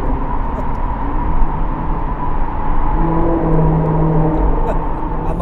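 A Maserati GranTurismo's engine and exhaust drone heavily and steadily, a loud low rumble heard from inside the car, holding a constant pitch without sharp revs.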